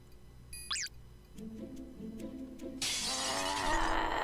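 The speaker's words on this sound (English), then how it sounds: "She smashed through the reinforced glass!" Reinforced glass shatters loudly partway through, a bright crashing burst that follows a squealing cry and low rhythmic tones, then spreads into sustained tinkling debris.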